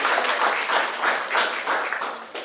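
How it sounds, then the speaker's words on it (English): A crowd at a cultural gardens federation board gathering claps in a warm, continuous burst of applause, loud and close, swelling in waves with no speech over it. "But in his honor, let's give him a round of applause."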